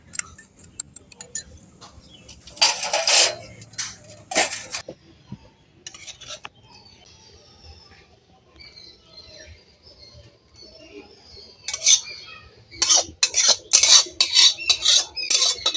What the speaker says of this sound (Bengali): এবার আমি মশলাটা মিশিয়ে নিচ্ছি।